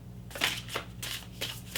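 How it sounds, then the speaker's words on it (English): A tarot card deck being shuffled by hand: several quick papery riffles and slaps in an uneven rhythm, close and fairly soft, with no talk. "One more shuffle."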